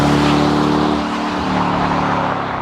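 A supercharged Dodge Durango SRT Hellcat engine accelerating hard, a loud, continuous yowling roar with a steady tonal whine that shifts pitch partway through, heard from inside the vehicle.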